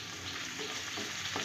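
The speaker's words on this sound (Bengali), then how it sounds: "এবার এগুলো একটু ভাজা ভাজা করে নেব, হালকা ভাজা ভাজা করব" Chopped onion and tomato fry in hot oil in a pan, giving a soft, steady sizzle with faint stirring scrapes, close but quiet.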